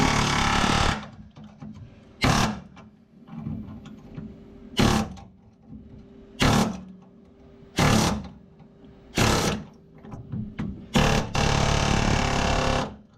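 Loud bursts of pneumatic air hammering on the metal frame of a 1995 Mazda B2300 pickup, about seven separate blasts spaced a second or two apart, with a hissing, rattling roar during each burst.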